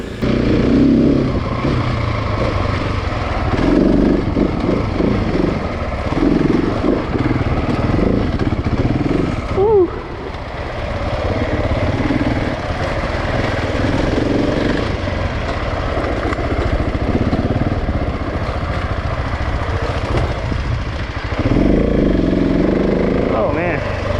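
A KTM 701 Enduro motorcycle rides on dirt trails, its engine droning steadily and loudly throughout with brief dips in throttle, while people talk over it.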